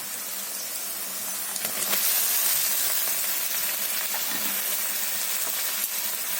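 Taro stolons frying in oil give a continuous close hiss and sizzle with faint scattered crackles throughout.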